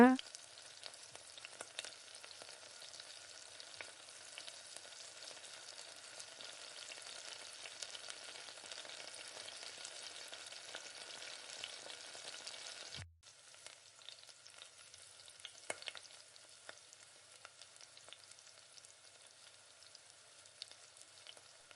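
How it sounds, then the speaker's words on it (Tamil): Steady sizzling of tomatoes frying in a pan, a continuous crackling hiss with a brief interruption partway through. "இப்போ இது கூடவே தக்காளியை சேர்த்து இதையும் நல்லா வதக்கி விட்டுக்கோங்க"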